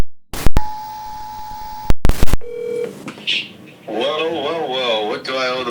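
A phone places a call: sharp dialing tones and a steady held beep, then a brief ringback tone before a person starts talking on the line.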